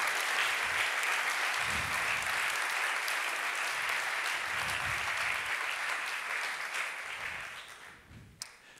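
Sustained crowd applause during a group photo at a youth science fair award ceremony, dense clapping that fades out near the end, with a sharp click at the close.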